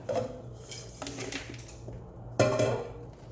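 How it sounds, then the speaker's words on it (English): A metal pan clatters and scrapes as it goes into an oven, a few quiet clanks and knocks close by, with a sharper bang near the end. "So I'm gonna put this pan in the oven."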